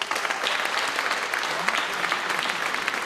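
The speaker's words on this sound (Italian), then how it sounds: "Io credo che un grande applauso lo dobbiamo fare a Don Giancarlo" Audience applause at a concert evening, dense steady clapping filling the room for the whole stretch without pause.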